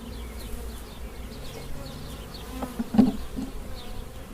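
Honey bees buzz steadily in an open hive while a nucleus colony is split off and waxed empty frames are set beside them, a close, continuous drone with a slightly louder swell near the end.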